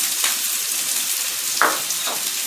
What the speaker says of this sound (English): I just want to cook that around in the oil for a couple of minutes, 3 minutes or so, until the onion becomes nice and soft